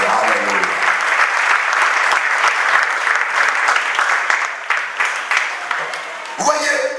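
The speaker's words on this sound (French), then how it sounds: "Applaudissons le Seigneur Jésus." A church congregation applauds during a sermon, sustained, loud, close clapping that carries steadily before thinning near the end, where a voice briefly comes in.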